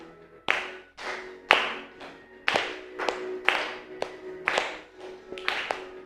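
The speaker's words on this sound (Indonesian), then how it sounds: "Yuk, boleh tepuk tangan, boleh." Rhythmic group hand clapping from a standing class of students before a regional song, sharp claps in an uneven beat across the whole stretch, close and fairly loud, with no voices.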